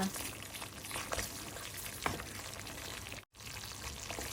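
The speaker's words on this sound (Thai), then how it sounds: "พริกแกงพะแนงเราก็เคี่ยวจนแตกมันแล้วนะคะ" Panang curry paste simmering in oil in a pan for pork panang, a soft steady sizzle and bubbling with faint stirring, quiet and close, briefly cutting out near the end.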